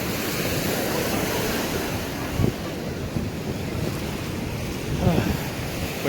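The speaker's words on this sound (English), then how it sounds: "See a part where the ocean meets the river right here." Ocean surf where a river meets the sea on a Colombian shore, a continuous broad wash of waves with wind rumbling across the microphone and a couple of faint swells breaking.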